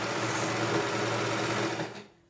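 A domestic sewing machine stitches a fabric headband at a quarter-inch seam, a steady fast whirring run for about two seconds that stops abruptly.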